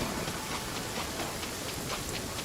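Steady rain falls across Fontaine in Genshin Impact, a dense, even hiss of drops pattering on surfaces throughout, with no voices over it.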